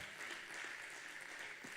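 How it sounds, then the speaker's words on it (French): Applause from an audience honoring couples at a French-speaking church gathering, a steady, dense wash of clapping lasting the full moment with no voices over it. "sous vos acclamations"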